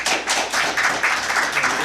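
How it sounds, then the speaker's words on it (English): A live podcast audience at Eschaton 2012 applauds in one sustained burst of dense, steady clapping lasting about two seconds, fairly loud with no speech over it. "I'm getting so much applause for this segment"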